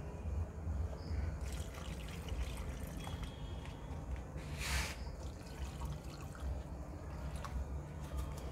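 Water pours and trickles into soil in potted garden plants, a continuous faint splashing and dribbling with a brief louder gush midway, heard close by under steady background noise.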